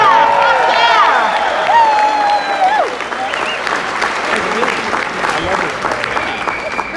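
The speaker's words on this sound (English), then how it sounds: "How about a round of applause for the awesome fucking show we've seen so far?" Concert crowd at a tribute concert applauding and cheering, a loud sustained roar of clapping with whoops and whistles near the start, easing slightly as it goes on, with voices mixed in.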